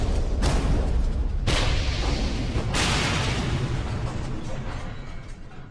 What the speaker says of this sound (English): you can unleash a salvo of torpedoes from their storage rack while Hitler is standing right in front of them